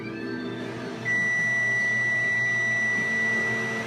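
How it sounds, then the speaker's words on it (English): A kitchen timer goes off in a home beer-brewing setup, giving one steady, sustained high electronic tone that starts a second in and runs on over a low background hum. "Okay, so my timer went off."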